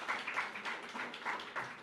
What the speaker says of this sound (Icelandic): við skulum bara gefa honum gott klapp líka